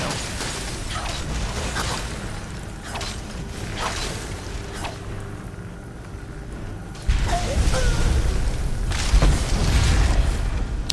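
In the Skyrim video game, booming explosions and bursts go off in uneven succession, with a heavier, louder blast rolling in near the end amid creaks and mechanical clatter.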